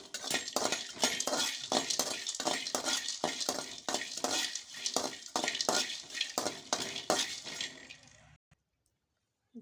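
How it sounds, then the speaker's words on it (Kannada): Edible acacia gum roasting in a pan over a low gas flame, a dense run of clinking, crackling stirs and scrapes of a utensil on metal that stops abruptly near the end, with no voices. "ಹಿಂಗೆ ಹುರಿಬೇಕು ನೋಡ್ರಿ. ಇಲ್ಲಿ ಸಣ್ಣ ಗ್ಯಾಸ್ ಇಟ್ಟು ಹುರಿಬೇಕು ರೀ."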